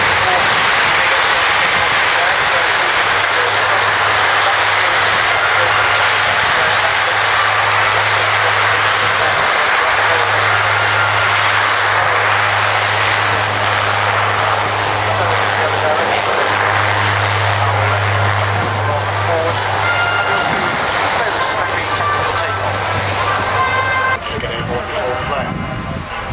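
A Lockheed C-130 Hercules roars at the RIAT airshow, its turboprop engines giving a loud, steady drone with a strong low hum that holds for the whole span, while a commentator talks over it.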